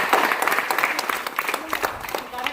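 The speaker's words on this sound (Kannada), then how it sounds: "ಸಮಸ್ತ ಗುರು ಹಿರಿಯರನ್ನ ಮೊದಲಿಗೆ ಚಪ್ಪಾಳೆ ಮೂಲಕ ಸ್ವಾಗತಿಸೋಣ" At a school Independence Day flag hoisting, a gathered crowd of teachers, elders and students claps in welcome: dense, lively applause throughout, close and fairly loud.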